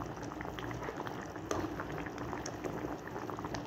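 Bihon noodles boil in a pot, making a steady, fairly faint bubbling hiss with scattered pops throughout.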